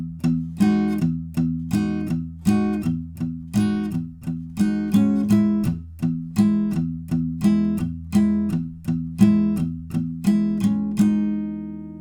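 Acoustic guitar strummed in a steady rhythm for a song, with palm muting only on strokes that hit the low 6th string, giving even, clipped chords that repeat alone and ring out at the end.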